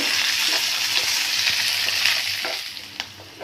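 An onion mixture with peanuts and a half spoon of asafoetida sautés in a pan for Maharashtrian onion thecha, giving a steady, close sizzle with occasional stirring scrapes and no voices.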